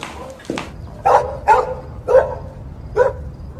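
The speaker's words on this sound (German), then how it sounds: "Sag mal, ist das normal, dass der so kläfft?" A neighbours' dog barks four times in a steady series, clear and fairly close, with a little background noise and no talk over it.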